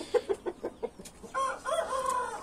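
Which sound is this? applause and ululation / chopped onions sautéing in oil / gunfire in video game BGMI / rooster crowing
rooster crowing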